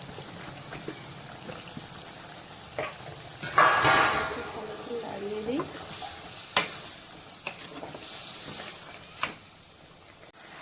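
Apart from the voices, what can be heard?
eggplant and shrimp stir-frying in a pan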